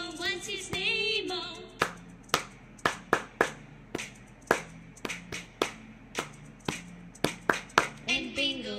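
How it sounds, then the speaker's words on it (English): Sharp hand claps ring out in clustered groups among singing voices during the Bingo song at a school-year-end meeting, each clap crisp and close, with singing between the sets. "Five claps"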